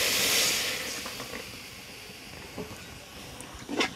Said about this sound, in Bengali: এখন ভালো করে সুজির সাথে দুধটাকে মিশিয়ে নিচ্ছি